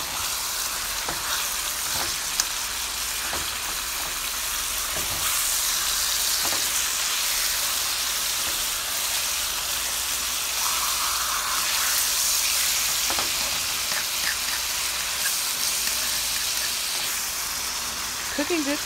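Steak frying in a pan for a teriyaki beef bowl, a steady loud sizzle and hiss that runs throughout, with occasional soft clicks and bumps from the cookware.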